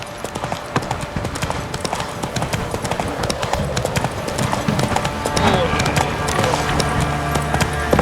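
A horse galloping in The Witcher 3, fast pounding hoofbeats in a dense continuous rhythm, with game voices and other sounds mixed over them.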